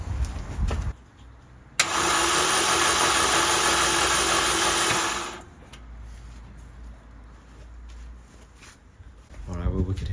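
A Volkswagen Golf engine cranks and runs roughly during a cylinder test, with a loud mechanical burst of about three and a half seconds that then cuts back to a low rumble, with speech before and after it.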